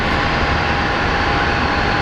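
The Honeywell airplane at Phoenix Sky Harbor airport gives a loud, continuous engine roar that stays steady and close throughout, with no voices.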